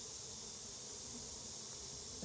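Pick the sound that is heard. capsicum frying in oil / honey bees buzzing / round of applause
honey bees buzzing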